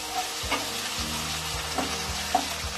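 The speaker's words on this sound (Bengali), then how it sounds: "1 টেবিল স্পুন আদা বাটা, 1 টেবিল স্পুন রসুন বাটা, একটু নাড়াচাড়া করে নেব পেঁয়াজ টমেটোর সঙ্গে।" Ginger and garlic paste stirred with onion and tomato in a hot pan, a steady close sizzle broken by several distinct scraping strokes of the spatula.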